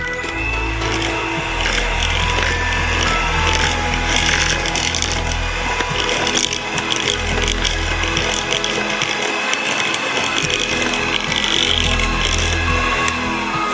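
Strawberry cheesecake mixture with icing sugar being whipped, a steady loud mechanical whir running continuously throughout with rattling texture and no talk.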